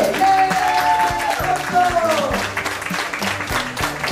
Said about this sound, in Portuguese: La primer lugar, me pedimos a vosotros un fuerte aplauso.